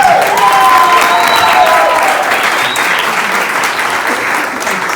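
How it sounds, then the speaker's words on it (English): Audience applause fills a retreat hall before a skit, a steady dense wash of clapping with some cheering that holds loud throughout and eases slightly toward the end. "That deserves applause."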